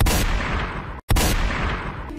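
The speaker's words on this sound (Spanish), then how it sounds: "después suenan dos tiros de escopeta" Two loud, close shotgun blasts in quick succession, each a sharp broadband boom with a sustained rumbling tail, separated by a brief silent gap near the middle.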